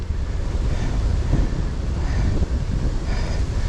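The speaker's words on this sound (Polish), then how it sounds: "W tej chwili taki dosyć silny wiatr z prawej strony." Strong wind roars and buffets against the microphone on a bike ride along a road, a dense, steady rushing noise with gusty swells throughout.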